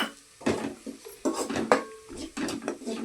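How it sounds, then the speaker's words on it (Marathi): Millet flour being stirred into chicken curry in a pot, a spoon scraping and clinking against metal in short bursts, close and moderately loud, with voices talking alongside. "ते चांगलं जरा हलवून घ्यायचं."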